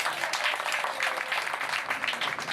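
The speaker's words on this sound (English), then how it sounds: "And even though she got all the applause" Audience applause at a youth arts collective event, a dense steady clatter of clapping from a crowd, loud and sustained throughout.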